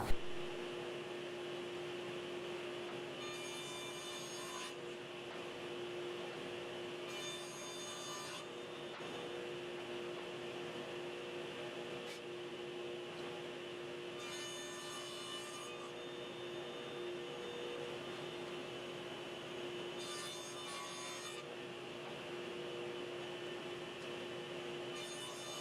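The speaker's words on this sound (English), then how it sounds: "So I'm going to go ahead and cut them now on the table saw" Table saw cutting wood pieces for a rolling planer cabinet, its motor humming steadily while five separate rasping cuts are made, each lasting a second or two. Sound is faint and quiet overall.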